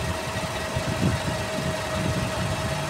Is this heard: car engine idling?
yes